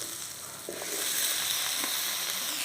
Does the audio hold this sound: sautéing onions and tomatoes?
yes